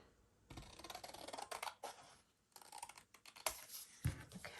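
Paper being trimmed with scissors in a crafting session making ephemera, giving bursts of close, crisp snipping and rustling with a short quiet gap midway and a few sharp handling clicks near the end.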